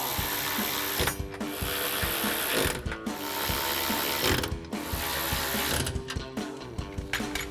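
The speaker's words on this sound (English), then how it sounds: "Ratchet, 13mm socket." A hand ratchet fitted with a 13mm socket tightens locking nuts on a truck side-step mount, clicking rapidly in repeated bursts with short pauses between strokes, close and fairly loud.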